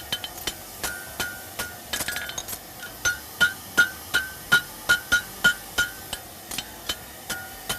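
Repeated metallic hammer blows on an anvil ring out in a steady rhythm, sharp clanging strikes on metal with a ringing tone, close and loud, about a dozen in sequence.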